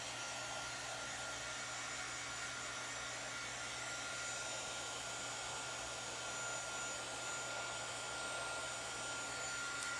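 Hair dryer blowing on a finished craft item, a steady, fairly quiet continuous whir held unchanged for the whole stretch, with no voices over it.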